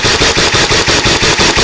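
A QWK Challenger Mk3 Pro Max Nerf AEG blaster emptying its magazine in full-auto, a loud, close, rapid and even rattle of shots with no pause throughout.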